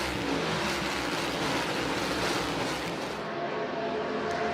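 NASCAR Cup Series stock cars race at Dover Motor Speedway, a loud continuous engine roar that stays dense and steady before easing slightly near the end.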